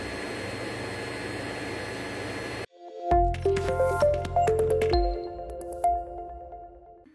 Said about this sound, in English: If your 3D printer fan sounds like this,